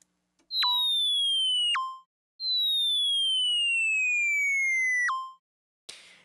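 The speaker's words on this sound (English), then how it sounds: "now we hear it returning quickly to its low pitch value" Two synthesizer sine tones glide slowly downward in pitch, then each snaps abruptly to a low note as it ends; the second sustains longer, followed by a short noisy burst at the end.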